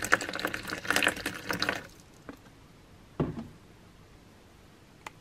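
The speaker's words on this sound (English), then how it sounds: "we're going to stick some water in right now and get to that fill line" Water poured into a self-heating spicy beef hot pot up to the fill line, a soft splashing trickle for under two seconds, then quiet with a couple of small knocks.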